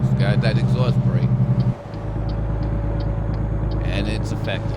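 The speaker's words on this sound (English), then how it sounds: "Yep, it's got that exhaust brake." A Peterbilt 386 truck's exhaust brake in American Truck Simulator: a loud, steady engine drone with pulsing harmonics drops abruptly early on, then settles into a lower, continuous rumble that runs to the end.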